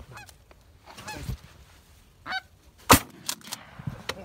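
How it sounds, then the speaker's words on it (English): Geese honk during a goose hunt at Pymatuning, with scattered nasal calls near and far and a sharp gunshot cracking out midway, followed by more honks. "Is it a goose?"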